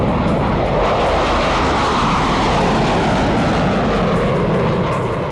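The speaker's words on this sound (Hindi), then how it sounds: "लड़ाकू विमानों के शोर से थर्राते पहाड़" A loud, steady jet roar fills the air, broadband and unbroken, as Mirage 2000 and Sukhoi Su-30 fighter jets thunder low overhead through mountains in Ladakh.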